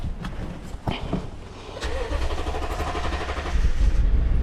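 A 2012 Toyota Tundra engine cranks with a few uneven bursts, catches and runs briefly with a loud, steady rumble, then dies away, heard close up with no talking.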